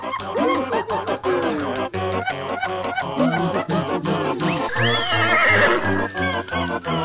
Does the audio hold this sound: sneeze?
no